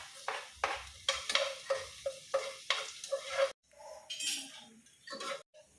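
Onion and garlic for a carbonara sauce are stirred in a pan, a rhythmic run of scraping, clinking strokes with a light sizzle, close and fairly quiet, then a short pause and a brief spoken word.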